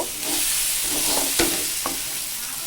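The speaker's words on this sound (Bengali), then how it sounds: "এর ভিতরেই ছেড়ে দিয়ে একটু নাড়াচাড়া করব" Fried pabda fish sizzles continuously in masala with a couple of sharp scraping stirs, close and fairly loud, no voices.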